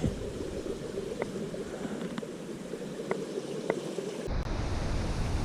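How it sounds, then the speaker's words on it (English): A river flowing near the Huskey Gap Trail, a constant broadband rush of water with wind buffeting the microphone, steady and moderately loud, a few faint clicks along the way and no voices. "I don't know if you can hear it or not, but sounds like we are definitely close to the river"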